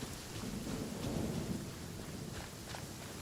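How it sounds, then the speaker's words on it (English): Thunderstorm in Genshin Impact, with a deep rolling thunder rumble building and fading over steady, loud rainfall that continues throughout without talk. "It is storming. Raining again."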